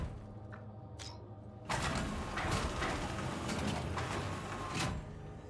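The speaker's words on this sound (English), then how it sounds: "we can head down this little elevator, which is the evac elevator" The evac elevator starting up in Star Citizen inside an asteroid base: a couple of quiet mechanical clicks, then a sudden loud, steady whirring rumble of machinery that holds for several seconds with a brief surge near the end.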